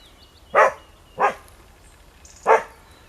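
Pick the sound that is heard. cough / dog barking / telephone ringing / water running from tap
dog barking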